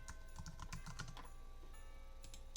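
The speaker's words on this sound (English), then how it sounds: "and then just type that in" Typing on a computer keyboard while entering text for a personalized throw blanket design, a quick run of light key clicks that thins out, faint and close over a steady background hum.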